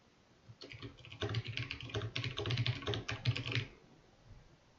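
Fingers type quickly on a computer keyboard, a steady stream of close, crisp key clicks lasting about three seconds before trailing off into quiet room tone.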